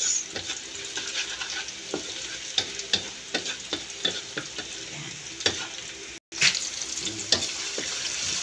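Ginger, garlic and onion sautéing in a pan for a Filipino laing dish, a steady sizzle broken by repeated sharp spatula scrapes and clinks against the pan, with a watery hiss underneath and a brief cutout partway through.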